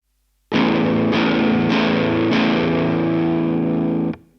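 Heavily distorted electric guitar chords ring out through an amp via a Lichtlaerm Audio Medusa death metal distortion pedal, struck four times and sustained before cutting off abruptly.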